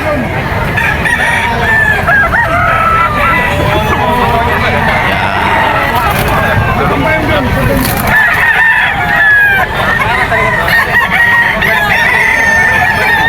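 Roosters crow repeatedly and hens cluck at a busy pet market in Bocaue, among birds offered for sale, including a white hatch with blue legs; loud, dense and continuous, with crowd babble and voices underneath.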